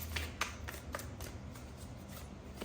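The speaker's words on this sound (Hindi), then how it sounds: "We need one card, let's shuffle again." Tarot cards are shuffled close by in a quiet room, a steady papery riffle with a few sharper flicks, and no one talks over it.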